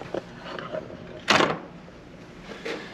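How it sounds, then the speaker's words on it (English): A door with a latch and mortise bolt swings open during a double swing door installation, giving one short, fairly loud clack and rustle midway through, with a faint knock near the end and no talking. "make a mark there, and then open up your door"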